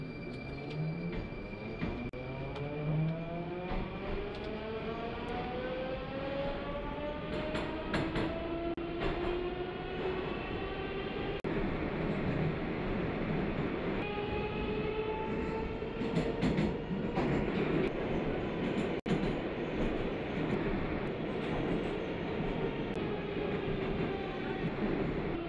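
A Rusich train on the Moscow metro in a subway simulator game pulls away, its electric motor whine climbing steadily in pitch over a continuous rail rumble with clickety-clack, loud and close throughout.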